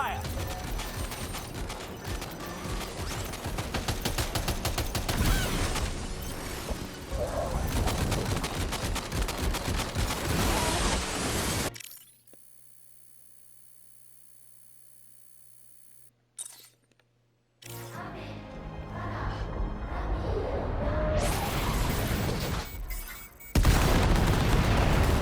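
Weapons fire in the Death Stranding 2 video game: dense rapid bursts of gunfire and heavy booms, broken by a brief near-silent gap before the loud barrage resumes.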